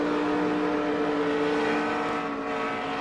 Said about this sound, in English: you can hear the RPM go up there, then you can hear him hit the wall